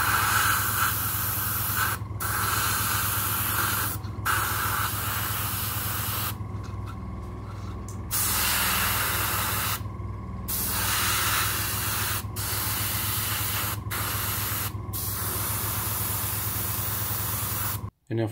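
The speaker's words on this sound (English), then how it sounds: "So I can only spray from a certain distance without making a mess." Airbrush spraying paint onto an Italeri Crusader III model tank, a steady close hiss in repeated bursts with short pauses between passes, plus a low mechanical hum underneath.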